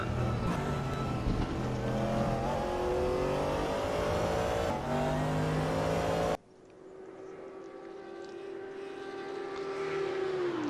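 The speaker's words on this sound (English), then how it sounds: "Nick Cortez continues to push that yellow Audi quite rapidly around the track" Race cars, among them a yellow Audi and a Bentley, lap the Mount Panorama circuit, loud engines droning at high revs before an abrupt cut to a single car whose engine note rises steadily as it approaches.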